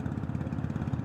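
An Audi A6 engine gives a brief, close, deep rumble with a rapid pulsing exhaust beat, steady and unbroken with no talk over it.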